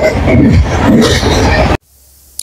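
Steady rumble of a moving train carriage with broad wheel and rail noise on a winter morning ride to Jhargram, then an abrupt cut to near silence with a faint click at the end.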